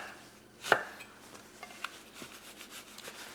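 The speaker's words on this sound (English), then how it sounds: "I want this onion to melt and be very soft, so I'm cutting it crossways instead of long ways." A knife cuts crossways through an onion on a cutting board in a quiet kitchen, one sharp chop followed by several faint, soft taps.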